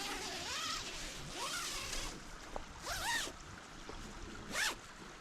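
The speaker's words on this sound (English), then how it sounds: "Find your zippers." Zippers being pulled open on a Ridge Outdoor Gear 360 camping hammock, three or four quick rising zips spread over several seconds, close and fairly loud, with rustling nylon fabric between the pulls.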